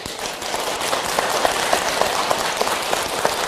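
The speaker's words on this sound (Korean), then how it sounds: "오늘 박수도 잘 나오고 분위기 좋네요" An audience claps steadily at a Buddhist monk's lecture, a dense patter of applause at moderate volume that holds throughout without voices.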